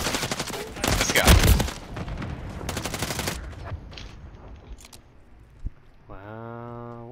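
Bursts of machine gun fire crackle in a Call of Duty Modern Warfare 3 match, loud rapid volleys early on that thin into scattered shots, ending with a short electronic tone.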